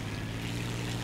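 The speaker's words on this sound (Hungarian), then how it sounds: "itt megyek a repcsivel" A video game airplane's engine holds a steady, loud drone through the whole short stretch, with no pauses and no talking.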